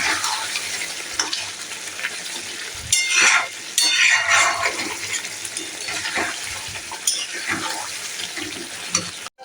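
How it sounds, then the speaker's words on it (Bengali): Tomato paste fries and sizzles in a pan of mutton curry while being stirred, a continuous hiss of cooking punctuated by a few louder scraping and clattering stirs. "টমেটোটাও ভালো করে কষিয়ে নেবো যতক্ষণ না টমেটোর কাঁচা গন্ধটা চলে যায়।"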